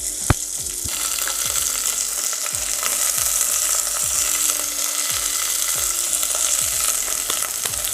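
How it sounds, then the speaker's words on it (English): Onion, garlic and celery sizzle and crackle in a hot pan, a loud steady frying hiss with occasional stirring scrapes, close up and without speech. "this is going to go straight in the onion, the garlic and the celery, and listen to this"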